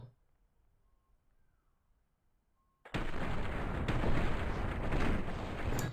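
After near silence, loud gunfire erupts in a first-person shooter game, with a sharp onset, then dense, continuous blasts and rattling shots close up to the end.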